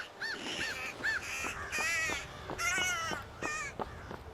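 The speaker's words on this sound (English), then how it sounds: "The birds. I love it." Crows cawing in the Skyrim video game, a steady series of harsh, repeated caws in quick succession over soft ambient game background, with no talking.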